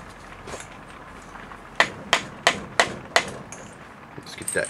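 Five sharp metallic strikes of a hammer on a bolt ring out in an even rhythm, close and distinct against a quiet room background.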